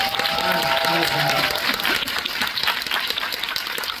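A crowd at a film screening Q&A applauds director Han Jun-hee, a broad, continuous clapping that starts under a host's speaking voice and carries on alone.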